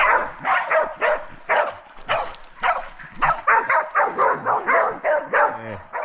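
Hunting dogs bark at wild pigs at night in burnt-over bush, a rapid, steady run of loud, close barks and yaps, with squealing and snorting breaking through near the end.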